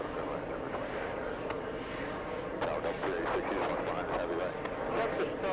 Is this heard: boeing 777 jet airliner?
yes